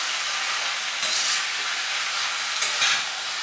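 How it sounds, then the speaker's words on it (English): Carrots stirred in a hot pan for a green bean and carrot curry hiss and sizzle steadily, with two brief louder bursts of steamy frying as the pieces are turned. "heat goes up, carrot goes in, and we'll give it a nice stir"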